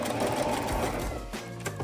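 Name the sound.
sewing machine overlocking stitches on fabric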